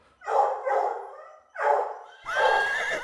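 A dog barks loudly in a series of about four drawn-out, harmonic bursts close to the recorder, with short gaps between them and no talking.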